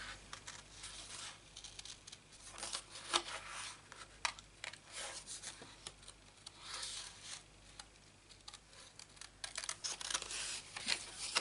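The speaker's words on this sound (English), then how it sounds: "You just cut them out by hand." Scissors snip through paper in quick, irregular bursts of crisp cuts as stamped paper images are trimmed out by hand, close and faint with no talking.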